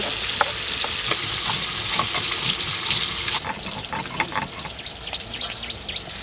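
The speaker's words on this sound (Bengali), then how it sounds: "কড়াইতে সর্ষের তেল দিয়ে দিয়েছি তেল গরম হয়ে গেছে এবার মাছগুলো ভেজে নেব" Catla fish fry in hot mustard oil in a kadai at a village cooking spot. The steady sizzle carries scattered sharp crackles, louder in the first half and then easing to a softer bubbling fry.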